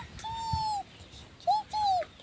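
A bird gives a few drawn-out whistled calls, one long note, a short chirp, then another long note, fairly clear over quiet outdoor background after strong wind and rain.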